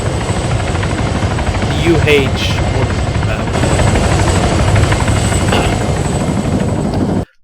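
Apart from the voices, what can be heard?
Marine Corps helicopter from RHS mod in video game Arma 3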